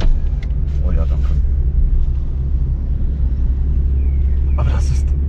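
A Fiat Punto restricted to 25 km/h as a moped car, driven slowly, gives a steady low engine rumble and road hum throughout, with brief higher rattles near the start and end.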